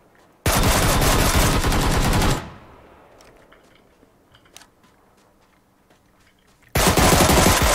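Automatic gunfire from PUBG Lite erupts in a loud sustained burst of about two seconds. It trails off into quieter clicks, then another loud burst starts near the end.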